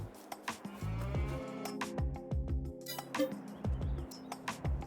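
Cattle in a dairy cow barn low repeatedly, several deep overlapping moos close by, with a few faint bird chirps in the background.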